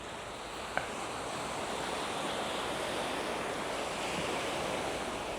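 Calm ocean waves wash gently onto a white-sand beach in Da Nang, a steady, even surf hiss with some wind noise against the microphone and no speech.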